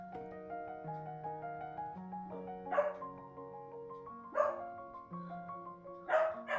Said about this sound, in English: Oh, they're barking.